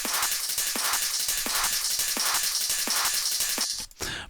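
A basic UK happy hardcore percussion loop with kick drum, ride cymbal and closed hi-hats, played as a loud, steady, repeating pattern of evenly spaced kicks under constant bright cymbal wash, stopping abruptly near the end.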